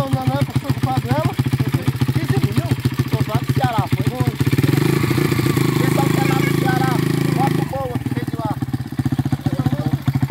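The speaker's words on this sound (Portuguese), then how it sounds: "Olha a descarga dessa moto aí." A new motorcycle's exhaust revs and idles up close in loud, rough, pulsing bursts, with one sustained louder rev in the middle, while someone speaks over it.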